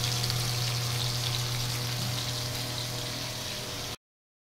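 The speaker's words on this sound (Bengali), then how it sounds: "নুন হলুদ মাখিয়ে জাস্ট তেলে, সর্ষের তেলে ভাজা" Bhetki fish rubbed with salt and turmeric fries in mustard oil, a loud, steady close-up sizzle that continues evenly for about four seconds and then cuts to silence.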